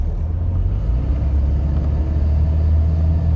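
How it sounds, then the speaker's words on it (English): A car pulling off along a road in San Timoteo Canyon near Redlands, a steady low engine rumble that stays close and even throughout, with no talking. "Car pulled off."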